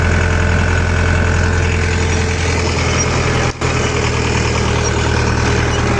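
A 2024 Dongfeng 404 tractor engine idles close by while sowing winter wheat, a low continuous rumble with a constant drone throughout and a brief dip near the middle.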